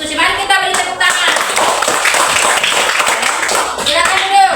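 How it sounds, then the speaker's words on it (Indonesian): Students in a classroom clap together after a group reads out its discussion results, a steady dense patter of many hands with voices mixed in at the start and end. "Mari kita beri tepuk tangan."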